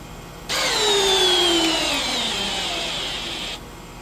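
A Milwaukee M12 3404-20 hammer drill runs in speed 2 drill mode, starting abruptly and whining for about three seconds at a steady pitch that sags slightly under load before cutting off, loud and close with no talking.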